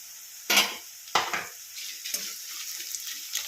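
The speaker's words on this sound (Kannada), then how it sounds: "ಒಣಮೆಣಸಿನ್ಕಾಯಿ ಒಂದು ಐದು ತಗೊಂಡಿದ್ದೆ ಇದನ್ನು ಹಾಕ್ಕೊಳ್ತಾ ಇದ್ದೀನಿ" Dried red chilies and curry leaves drop into hot oil, setting off two sharp bursts of sizzling followed by a quieter, crackling fry that settles down at close range.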